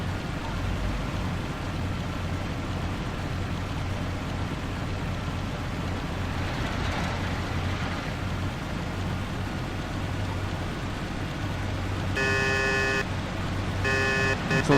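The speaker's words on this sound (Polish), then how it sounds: "Co trąbienie nie daje?" Car horn honks in the PC game Mafia, several short bright blasts near the end over a steady engine and street rumble.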